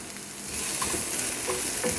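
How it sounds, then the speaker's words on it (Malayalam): Chicken for shawarma is stirred and fried in a pan, a steady close sizzle with soft scraping and clinking from stirring, no speech. "അതിലേക്ക് ഞാൻ ആ ചിക്കനും കൂടി ഇട്ട് കൊടുത്ത് ഇനി നല്ലപോലെ ഒന്ന് മിക്സ് ചെയ്യാം"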